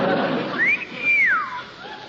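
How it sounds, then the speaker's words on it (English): A sailor on a street corner whistles for a cab, a single loud rising then falling wolf-style whistle, long and clear, heard from a short distance in an old radio comedy scene. "It's that sailor on the corner. He's whistling."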